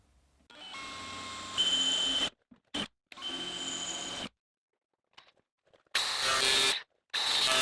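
A power drill with a 1/4 inch bit bores holes while auxiliary reverse lights go onto a vehicle, in several loud bursts of whirring that start and stop with silent gaps between them.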